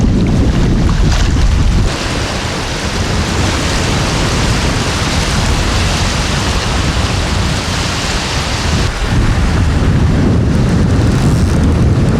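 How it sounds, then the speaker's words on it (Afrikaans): Strong wind roars across a microphone at Bloemhof Dam, a loud continuous buffeting rush with slight dips in force and no voices. "ek moet sê hierdie wind waai nou vir ons regtig raak"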